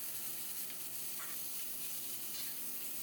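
Beef sizzling in hot beef tallow in a pan, a dense, loud, continuous frying hiss with faint crackles throughout.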